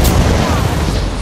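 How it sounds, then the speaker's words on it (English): Grenade explosion in Apex Legends, a broad rumbling blast that fills the whole short moment, loud and dense with noisy low-end roar. "Stand back, grenade out."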